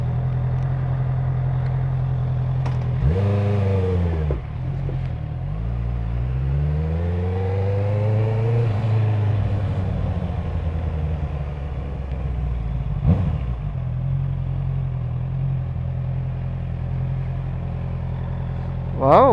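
CF Moto SRS motorcycle revving nearby over a steady low idling rumble, with several rising and falling throttle blips around the middle, at an outdoor roadside stop, with some talk.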